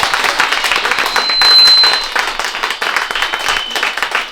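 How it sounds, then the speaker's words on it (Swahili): A church congregation claps together at a Sunday thanksgiving service, a dense rhythmic clatter of many hands that stays steady and loud throughout with a faint tone underneath. "Hebu tupige makofi mengi kwa Yesu."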